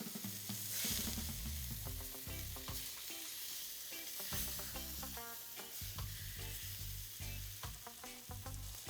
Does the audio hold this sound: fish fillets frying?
yes